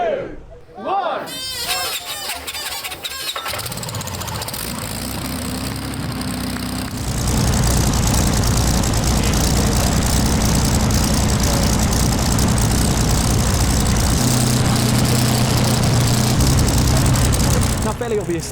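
Sunbeam 1000hp land speed record car from 1927, its old rear-mounted aero engine starting after a countdown and settling into a loud, steady, heavy roar that swells further and holds continuously.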